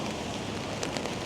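Steady rain falls outdoors on a cold day during a cherry blossom walk, a soft, even hiss with faint scattered patters throughout.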